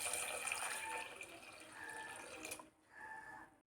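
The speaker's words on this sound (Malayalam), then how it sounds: "ഇനി ഇതിലേക്ക് വെള്ളമാണ് ഒഴിച്ചു കൊടുക്കുന്നത്." Water pours into a pot of chopped tomatoes for a rasam, a brief gurgling, splashing stream that stops near the end and then resumes briefly.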